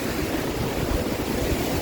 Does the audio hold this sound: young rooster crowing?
no